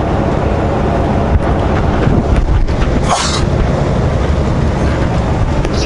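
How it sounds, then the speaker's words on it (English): Steady wind roars and buffets outdoors, a loud broadband rush with occasional gusts and clicks, no voices. "Pretty windy out here"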